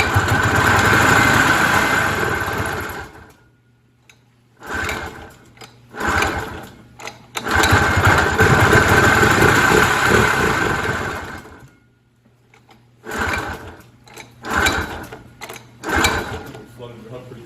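A cheap snowmobile engine, just fixed with a new head gasket, catches and runs in loud, buzzy bursts, then sputters and dies between them, with several attempts in close range.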